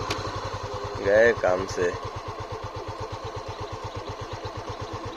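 A Honda CB300F motorcycle engine thumps in a steady, close, low rhythm while climbing a slope, with someone speaking briefly over it near the start.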